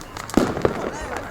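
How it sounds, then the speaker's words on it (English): Fireworks go off during the Spring Festival in China. A couple of sharp, fairly close bangs and crackles sound over background noise, while a voice talks through them. "Here we got one place for the fireworks."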